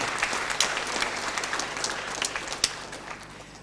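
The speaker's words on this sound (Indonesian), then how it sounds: "Maka kita beri tepuk tangan yang meriah buat segenap orang tua ini." An audience at a college graduation ceremony applauds the graduates' parents, clapping steadily with a few sharper claps standing out. The applause sounds moderately distant and fades gradually toward the end.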